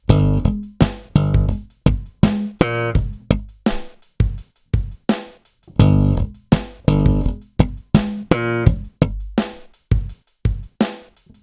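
Stomp-style slap bass groove on a bass guitar, a long run of punchy slapped and popped notes mixed with muted percussive hits, driving and rhythmic, close and loud without any voices.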